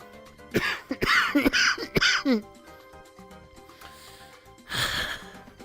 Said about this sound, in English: coughing is getting much worse